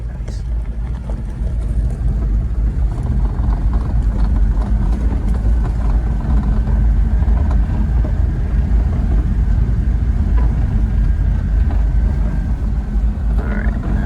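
A clown truck's engine drones steadily while driving, a loud continuous low rumble with wind buffeting the microphone, holding level for the whole stretch.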